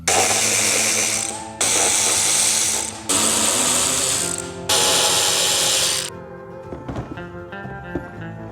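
A power driver whirs in four long bursts, removing T27 and T25 Torx screws from the fairing of a 2025 Harley-Davidson Road Glide, followed by small clicks and metallic handling.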